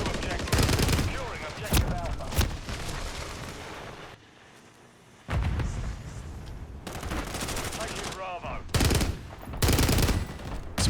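Rapid automatic gunfire bursts from the Call of Duty video game, loud and close, in several sustained volleys separated by a short quieter gap near the middle.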